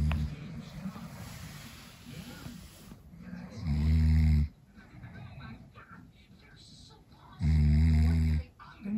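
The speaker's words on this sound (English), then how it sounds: "Why do you snore so loud now?" Two loud, deep snores rumble a few seconds apart, close up, over quiet background noise.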